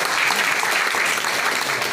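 A seminar audience breaks into loud, steady applause, a dense unbroken wash of many hands clapping at once.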